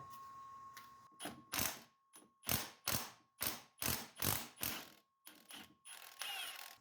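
A series of about a dozen short, sharp rattling bursts, close and fairly loud with brief gaps between them, as an impact gun loosens a bolt on a Toyota Avalon.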